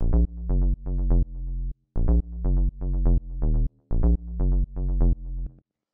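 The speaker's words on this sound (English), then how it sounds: "I've got just a square wave in operator here that's going into a low pass filter with a bit of an envelope on it" A house bass line from a square-wave synth fed through an enveloped low-pass filter, following a chord progression in short plucked notes grouped in bars with brief gaps, clean and upfront with no voices.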